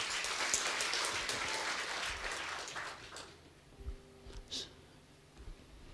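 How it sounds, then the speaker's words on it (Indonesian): A church congregation claps during an Indonesian sermon. Soft, diffuse applause fills the first few seconds, then quickly dies away into near-quiet with a few faint knocks and breaths. "Oke, tepuk tangan boleh."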